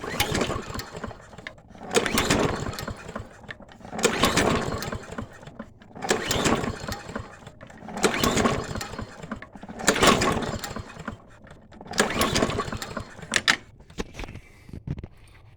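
Toro 22-inch Recycler lawn mower that has been sitting, pull-start attempts in repeated bursts, each a roughly one-second ratcheting crank with sputter that fails to catch, close and loud, with pauses between pulls.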